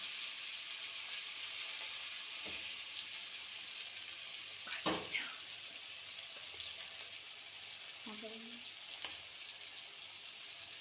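Food that has just been flipped fries steadily in a pan, an even bright sizzle held close throughout, with a few soft stirring knocks and no voices.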